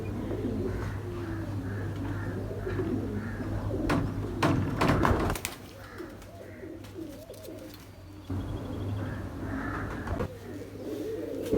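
Pigeons coo repeatedly on a rooftop where breeder pigeons are kept, soft rhythmic calls close by and moderately loud, with a brief burst of clattering or fluttering midway.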